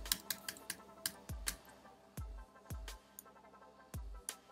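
Keys clatter on a Mac computer keyboard as a command is entered in Terminal, a quiet, uneven run of close individual clicks with a few heavier thumps like the enter key, and no voices.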